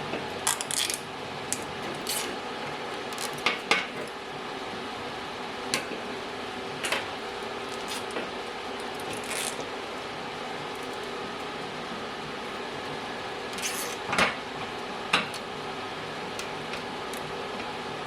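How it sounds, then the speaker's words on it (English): Zip ties ratcheting tight on a rockabilly buggy tube frame, short sharp clicking bursts scattered irregularly over steady shop fan hum, close and moderately loud. "now we can zip tie this one in and then do the other side"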